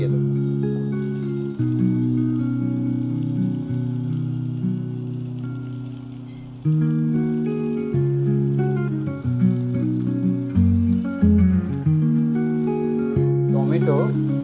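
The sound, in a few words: chopped onions frying in a pan for katla fish curry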